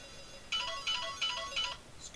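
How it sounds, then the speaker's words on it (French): A phone ringtone plays a short repeating electronic chime in four evenly spaced bursts, moderately loud over quiet room background, with no one speaking. "Quelle belle sonnerie."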